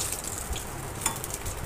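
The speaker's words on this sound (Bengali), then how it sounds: "আমাদের পলতা পাতাটা ভাজা প্রায় হয়ে এসেছে।" Battered palta, pointed gourd leaf, fritters fry in hot oil, a steady close sizzle with a brief clatter as one is flipped, no one talking.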